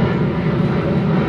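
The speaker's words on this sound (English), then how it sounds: "There goes an aeroplane." An aeroplane flying low overhead near the airport in Chiang Mai, Thailand, its engine roar loud and steady, filling the whole moment with a broad rushing drone.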